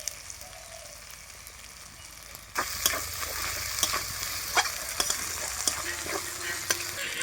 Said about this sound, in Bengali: এবার দেবো 1 চামচ হলুদ গুঁড়ো।